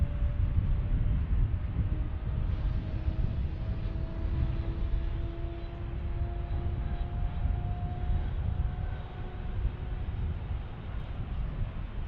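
A Cessna business jet at Dallas Love Field, heard as a steady distant engine roar and hum under heavy wind rumble, with a faint rising whine across the whole stretch.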